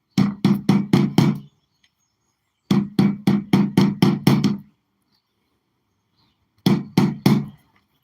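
A hammer strikes repeatedly to pack powder into a rocket tube, in close, sharp, evenly spaced blows. One burst of about six is followed by a pause, then a second burst of six, then three more after another gap.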